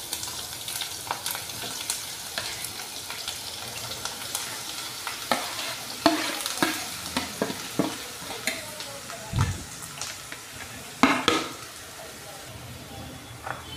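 Grated carrot is stirred and fried in a pan for carrot rice. Oil sizzles steadily under a run of sharp scraping and clattering stirring strokes, with occasional soft speech.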